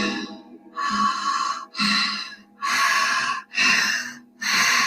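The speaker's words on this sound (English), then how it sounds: "Keep breathing," Deep, slow breathing during a guided meditation, heard as a steady cycle of long, close, airy breaths with short pauses in between and no talking.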